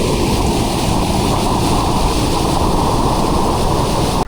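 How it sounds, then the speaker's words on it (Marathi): Forceful water rushes through a village stream in the monsoon season, a loud, steady, unbroken roar of churning flow that stays close and continuous throughout. "ओढ्याला पाणी एकदम असं नॉर्मल आहे, पण फोर्स भरपूर आहे"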